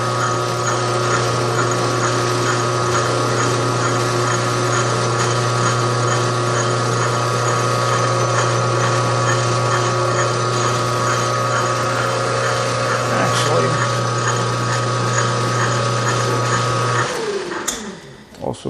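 A metal lathe chamfers the edge of a fiber optic shotgun bead sight with a loud, steady, close motor drone and whine, which winds down and stops near the end.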